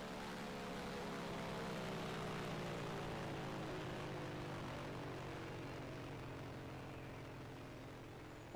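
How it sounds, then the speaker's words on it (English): A Vought F4U Corsair with a radial engine approaches, its propeller drone steady and layered with harmonics that slowly shift in pitch, holding strong for several seconds before easing slightly, with no talk over it. "The sound of that radial engine already coming in there."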